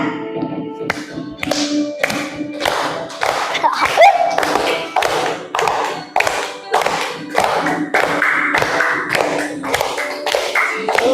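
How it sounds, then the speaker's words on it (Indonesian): In a classroom, children clap along in a regular rhythm to a Ramadan song, loud, evenly spaced claps in a steady beat with singing and a teacher's voice mixed in. "Boleh sambil tepuk-tepuk ya."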